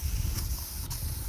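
A spray gun mists a mixture of water and denatured alcohol into the air, a continuous close breathy hiss over a low rumble, with no voices.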